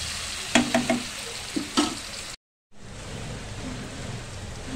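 Chopped medium tomatoes hiss and sizzle in a hot pan for gongura chicken. A few stirring scrapes rise over the steady frying, and it cuts out briefly before the sizzle resumes.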